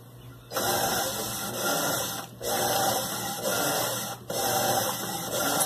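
An Electrolux LTC10 top-loading washing machine agitates a bedsheet on the turbo setting. It makes a loud, churning mechanical whir in steady cycles, with brief pauses where the agitator reverses direction.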